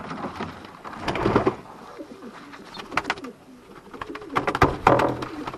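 Young indigo checker and checker pied pigeons coo softly in a loft, with low murmuring calls in a few uneven bursts and faint rustling between them.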